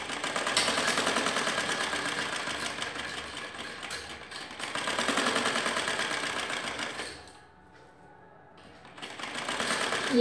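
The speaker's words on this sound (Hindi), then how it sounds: "अब ऐसे ही ये दूसरी तरफ भी सिलाई लगाएंगे।" A sewing machine stitches a kaftan seam in steady mechanical runs, a close buzzing whir that pauses briefly before starting up again.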